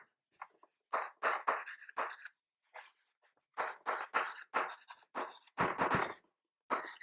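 Pen scratching across paper in bursts, with pauses between strokes, during a math lesson working out a function's domain and range; close and fairly clear, no talking over it.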